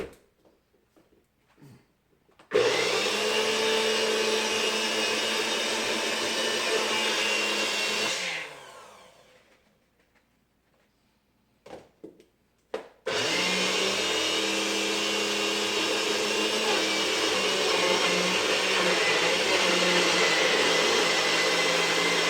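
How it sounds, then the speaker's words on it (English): A power blender making a smoothie whirs loudly and steadily, stops for a few seconds of near silence with a couple of small knocks, then roars back on at full strength. "we're going to put it in our power blender."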